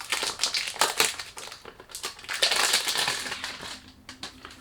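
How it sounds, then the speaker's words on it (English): Jaguar Oud fragrance packaging being unboxed close by, with irregular crinkling, rustling and crushing of cardboard and wrapping in quick bursts. "Let's unbox it. Sorry about the noise."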